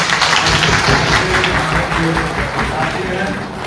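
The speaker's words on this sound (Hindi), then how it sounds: "तालियों से आपका स्वागत चाहता हूँ" A gathered crowd at a welcome ceremony claps in greeting, a loud continuous patter of many hands close by, with murmured voices and some shouting mixed beneath the applause.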